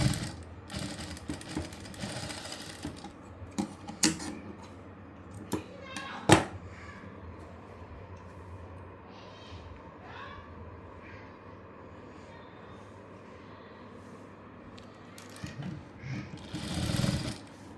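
A sewing machine runs in short, uneven bursts while stitching piping onto a blouse, a quiet mechanical whir with pauses between runs and faint background noise.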